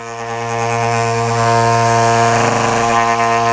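A Surge orbital sander strips old finish off a door, a steady loud motor whine with a strong droning hum that holds unbroken, close and alone.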